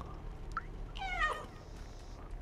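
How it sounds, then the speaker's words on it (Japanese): A cat in the video game Stray lets out a single clear meow, drawn out and slightly falling, preceded by a tiny chirp and set over a low, steady ambient hum. "にゃーん。"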